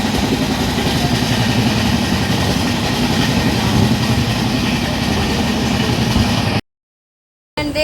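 Passenger train running on rails, a steady close rumble with rhythmic clickety-clack of the wheels and carriage rattle, continuous and fairly loud with no talk, ending in a sudden cut to silence.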